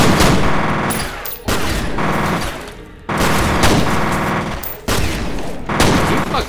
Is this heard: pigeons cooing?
no